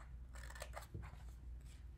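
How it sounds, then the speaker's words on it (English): Quiet crisp snips of scissors cutting paper, a few cuts in quick succession, close and faint. "I'm going to take my scissors, just cut along here."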